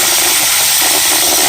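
A tool tightens a 12 mm battery bolt on a Kia Optima with a loud, continuous buzzing whir up close for a second or so, and no one speaks.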